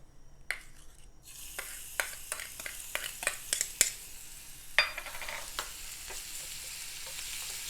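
Garlic dropping into hot ghee in a small tempering pan, erupting after a brief quiet into loud close sizzling with repeated scraping stirs and spoon taps, crackle staying strong to the end, no talking.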